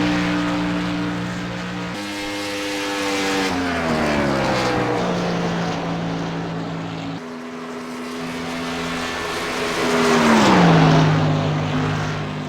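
Race cars roar around the track in iRacing, including a Ford Fusion, number 37, with engines whining and shifting pitch as cars pass close by, one swelling loudly near the end.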